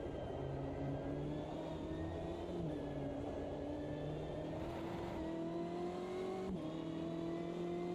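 A GT race car in Automobilista 2 revs hard through gear changes, its engine pitch climbing and dropping in steps over a steady, faint drone with no speech.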